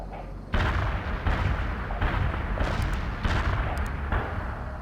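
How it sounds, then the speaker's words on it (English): Heavy artillery barrage from the World in Conflict real-time strategy game: loud, dense rolling booms and blasts hammering continuously for several seconds, with repeated fresh impacts layered over a constant low rumble. "Heavy artillery barrage inbound"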